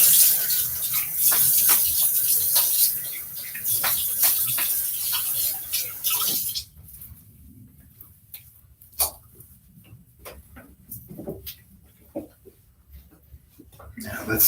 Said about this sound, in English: Let me get a good rinse and we'll check that out.